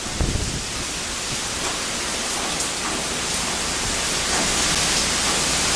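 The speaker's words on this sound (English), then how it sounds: "The winds have really picked up." Hurricane Irene's winds roar steadily as a broad, constant wash of noise, loud and continuous with no voices, swelling slightly toward the end.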